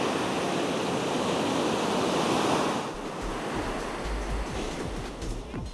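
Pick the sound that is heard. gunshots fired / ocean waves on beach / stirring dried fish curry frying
ocean waves on beach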